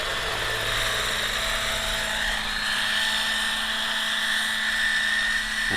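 Large 800-size Roban EC130 scale RC helicopter in flight, its rotor whine and buzzing drone loud and steady throughout.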